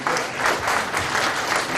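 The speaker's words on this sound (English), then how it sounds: "If you want to clap, clap, please." Audience applause at a religious freedom conference, a steady wash of many hands clapping for the full couple of seconds at moderate, even volume, with no voices standing out.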